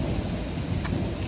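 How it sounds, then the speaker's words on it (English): Heavy rain pours steadily during a thunderstorm on Jersey's southeastern coast, with deep low thunder rumbling beneath the dense hiss and a brief bright crackle partway through. "especially with the lightning and thunder"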